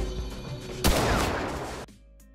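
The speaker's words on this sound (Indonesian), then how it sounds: "Kaki Jim terkena tembakan." A rifle shot in a film scene: one sudden, loud, sharp blast partway through that cuts across a tonal music-like background, then a ringing wash that stops abruptly near the end.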